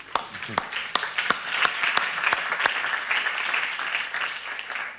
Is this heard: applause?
yes